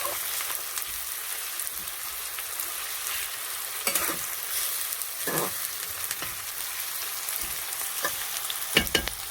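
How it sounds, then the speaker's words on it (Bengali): Onions frying in a pan of oil for a large meat curry, a steady close sizzle with occasional louder scrapes and knocks of stirring, no talk. "পেঁয়াজটা ভালো করে ভাজা ভাজা হবে"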